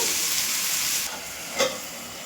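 Bun dosa batter cooks in a covered pan over a medium flame, giving a steady, fairly quiet sizzling hiss that eases slightly partway through, with one brief soft knock.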